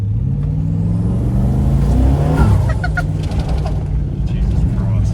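A twin-turbo LS1 V8 Land Cruiser on a beach revs hard, its deep engine note rising and falling loudly and close, with a few short honk-like chirps in the middle.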